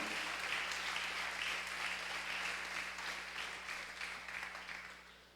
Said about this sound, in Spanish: Dele un aplauso fuerte a Dios en este día.